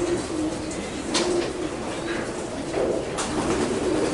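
Racing pigeons coo in a one-loft race loft, soft throaty low calls repeating near and clear over a steady background hum, with a few brief rustles.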